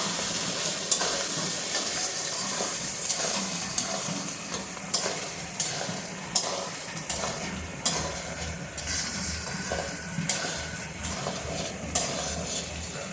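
Chicken sizzles steadily in hot oil with spices while being stirred for chicken kosha, the frying hiss continuous and close, marked by regular scraping and clinking of the spoon against the pan.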